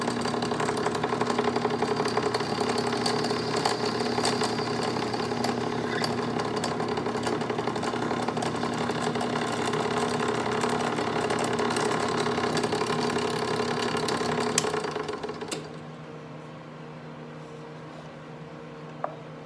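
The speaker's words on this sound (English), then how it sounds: "Let me put in a hole saw to do that middle part." A hole saw cuts out the centre of a blower part for a dust collector, a steady loud grinding drone for about fifteen seconds that then drops to a quieter run-down.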